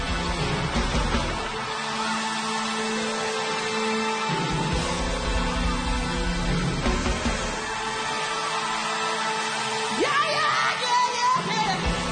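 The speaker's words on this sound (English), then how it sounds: "who would start shouting, who would start screaming." A church congregation at a New Year's Eve service shouts and yells loudly in praise, with voices rising over a sustained, dense wall of music and crowd noise.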